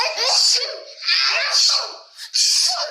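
A voice imitates a sneeze, with a few breathy, high bursts in quick succession that sound playful and almost like giggling.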